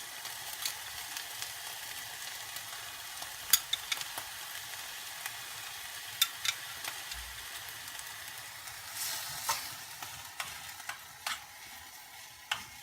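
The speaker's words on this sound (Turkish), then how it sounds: "Bunu biraz kaynatıyoruz arkadaşlar." Tomato sauce for bolognese simmers and sizzles steadily in a pan, a soft continuous bubbling hiss broken by occasional sharper pops and stirring scrapes, close by and with no talking.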